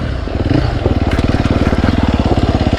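A 2020 Sherco 300 SEF Factory dirt bike with an Akrapovic exhaust runs at a steady, throaty idle, its rapid even thumping pulses loud and close throughout.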